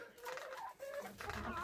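Clucking hens and roosters calling nearby, busy and overlapping, with a low rumble underneath.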